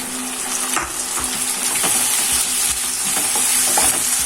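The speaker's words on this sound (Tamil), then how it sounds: "இப்போ தக்காளி 2 ஆட் பண்ணிக்கலாம்." Two tomatoes go into a pot of hot oil with spices and herbs for fish biryani and are stirred through a loud, continuous sizzle, with scraping strokes breaking in now and then.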